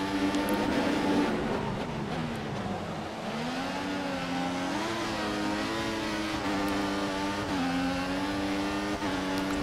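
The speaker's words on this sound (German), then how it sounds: "Aber jetzt wird der Motor natürlich richtig geil hier" Formula 1 race car engine in the F1 2014 video game during Singapore practice: a loud, continuous high-pitched engine whine whose revs rise and fall through gear changes, with no talking.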